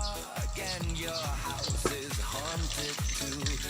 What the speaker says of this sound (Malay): Minyak pun dah panas. Sekarang ni kita goreng adonan tadi.